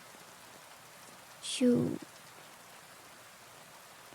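Steady, soft rain hisses evenly throughout a calm bedtime setting, with one brief, louder voiced sound rising over it midway.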